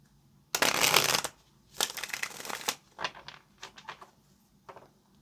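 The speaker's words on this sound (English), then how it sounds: "this will be our last shuffle right now" Tarot cards being shuffled close up: a loud riffling burst followed by a longer second shuffle, then several softer, shorter rustles and taps as the deck settles.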